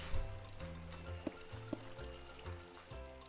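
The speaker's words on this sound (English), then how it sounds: "we dig a couple blocks and put a water source there" Water from a freshly placed source block flows in Minecraft, a continuous gushing trickle with a few soft drip-like blips, moderately loud and steady, no talk.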